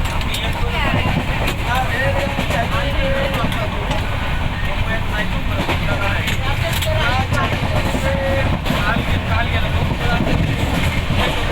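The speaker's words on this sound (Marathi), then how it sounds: "ट्रेन खूप स्पीडमध्ये चाललेली आहे." The Sindhudurg Express rumbles along at speed from Mumbai to Konkan with a loud, steady roar, rattling and clacking throughout, and voices faintly audible in the noisy carriage.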